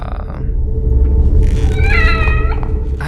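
A cat meows in The Evil Within video game, a single drawn-out, wavering meow rising over a low rumbling hum, close and fairly loud.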